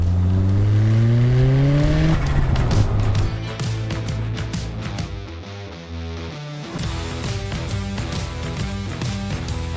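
A Mazda RX5 Turbo sports car engine of about 250 horsepower revs hard and climbs through the gears, loud and close, with a rising whine and a brief dip between shifts.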